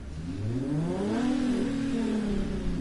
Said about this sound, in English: Now this car sounds like a pissed off weed eater